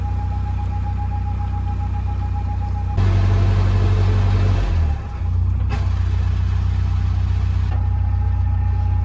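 A narrowboat engine runs steadily while the boat reverses on the Stratford Canal, a loud low chugging drone that deepens briefly midway before returning to a constant throb, with no talk.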